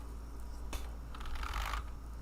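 A computer keyboard is handled and shifted, giving a quiet scratchy clatter of keys and plastic in a few rustling bursts over a steady low room hum.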